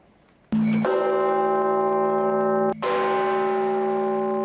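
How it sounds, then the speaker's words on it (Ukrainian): A church bell at Kyiv Pechersk Lavra tolls loudly and close in memory, two strikes with long ringing, humming decay that sustains between and after them. "У Києво-Печерській лаврі традиційно після хвилини мовчання прозвучав дзвін пам'яті та надії."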